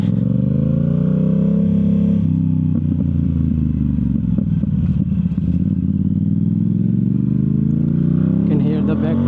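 Yamaha YZF R7 fitted with a Yoshimura full exhaust revs hard while riding, its loud, rough engine drone rising and falling with scattered sharp backfire pops through the middle.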